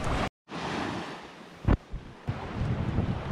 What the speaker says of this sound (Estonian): Ja millegi võrrest õhtu need lained tõusevad.